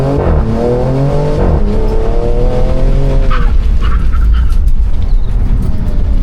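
A 2026 Dodge Charger, lightened by nearly 1,000 lbs, launches hard in a 0-60 run. The engine roars loud and close, its pitch climbing through each gear, with brief drops at the shifts.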